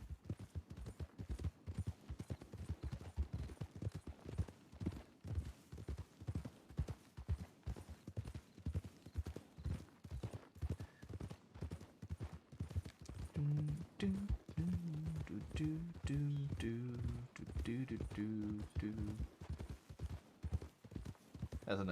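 An Arabian horse canters in Red Dead, its hooves striking in a steady, quick clip-clop rhythm throughout, with voices talking over the later hoofbeats.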